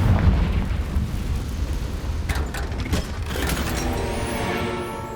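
A Confringo fire spell going off in Hogwarts Legacy, heard as a loud, continuous burst with a crackling, rumbling blast that fades out over a few seconds.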